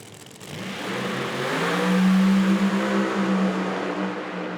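Pro Mod drag race car without a screw blower, revving then accelerating hard in a semifinal run, a loud sustained engine roar rising in pitch with a steady low drone, no talk over it.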